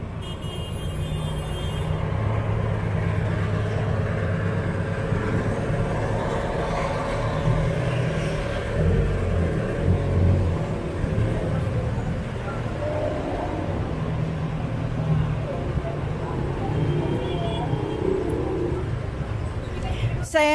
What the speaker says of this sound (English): Traffic, traffic, traffic naman.